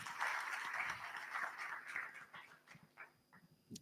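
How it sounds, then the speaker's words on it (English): Audience applause at an International Day of Democracy 2023 panel welcomes a panelist, moderate clapping that thins out into scattered claps near the end. "Round of applause, everyone."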